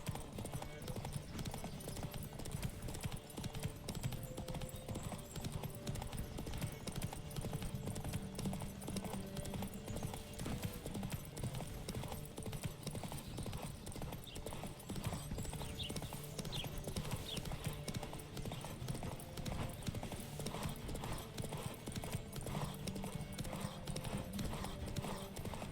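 Galloping hooves of a horse in the video game Witcher 3 pound in a dense, continuous rhythmic clatter throughout, loud and close, with game noise and occasional voices mixed in.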